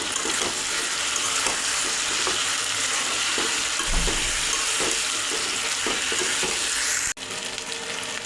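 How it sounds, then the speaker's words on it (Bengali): Chicken and onion frying with ginger garlic paste for homemade chicken biryani, a loud continuous sizzle with repeated stirring scrapes, briefly cutting off near the end before resuming. "আদা রসুনও ভালো করে ভাজা হয়ে গেছে।"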